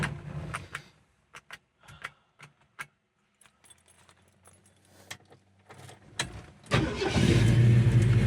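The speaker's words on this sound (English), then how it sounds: "Starts really nice and easy. It's got a nice cam, well-built engine." A 1968 Ford Mustang with a well-built, cammed engine: keys jingle and click in the ignition, a few quiet clunks follow, then the starter cranks briefly before the engine catches and settles into a loud, steady idle close by.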